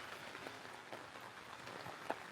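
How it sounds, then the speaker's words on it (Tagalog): Steady heavy rain pours, pattering and hissing on a surface at a nature campsite, with a few heavier drops tapping through the constant wash. "Ayan, bumuhos na nga ng tuluyan yung ulan."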